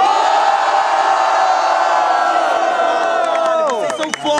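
A large crowd roars, cheers and shouts continuously at the grand final of a Brazilian rap battle, a loud sustained wall of voices that swells and breaks into scattered whoops near the end.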